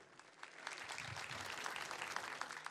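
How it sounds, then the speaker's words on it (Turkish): Crowd applauding at a CHP political rally in Istanbul, a dense steady roar of many hands that swells after a quieter start and holds for several seconds, fairly distant. "Bir ayağa kalk, hep beraber alkışlayalım."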